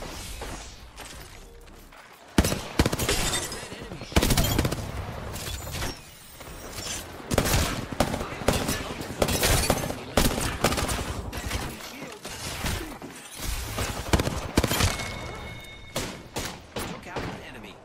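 Rapid bursts of video game gunfire, some of it from a Wingman pistol, crackle in repeated volleys with mechanical clicks between them, fairly loud with a voice talking over parts.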